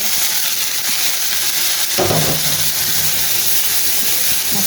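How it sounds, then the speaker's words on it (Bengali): Onions frying in a pan until golden, with fish and spices being prepared alongside, give a steady close sizzle and hiss and a brief burst of stirring partway through. "পেঁয়াজ একদম গোল্ডেন কালার হয়ে আসছে।"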